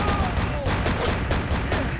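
Dense, rapid gunfire from enemies in the Vampire the Masquerade Bloodlines video game crackles continuously as a steady, busy barrage at moderate distance.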